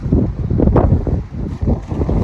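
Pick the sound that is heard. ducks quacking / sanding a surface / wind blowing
wind blowing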